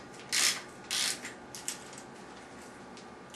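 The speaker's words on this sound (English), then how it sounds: "this will put the chain on the smallest cog in the back" Bicycle rear derailleur shifting the chain down onto the smallest rear cog, two crisp mechanical ratcheting clicks close up, followed by a few faint ticks.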